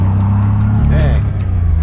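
JDM Honda van on a test drive, engine droning low and steady from inside the cabin with road rumble, and a voice briefly speaking over it.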